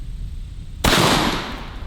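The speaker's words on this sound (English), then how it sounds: "Let's see what the buckshot does." A shotgun firing double-aught buckshot outdoors at a steel plate target, one sharp loud blast that cuts in suddenly and rings out briefly, following a quiet background.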